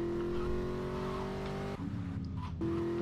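A car driven in the video game GTA 3 gives a steady, droning engine hum that runs continuously, dips briefly, then resumes at the same level, with no talk over it.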